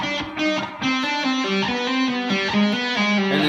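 Electric guitar slowly picking a lick with light distortion, a steady string of single notes moving through an exotic-sounding scale, close and loud with no talking.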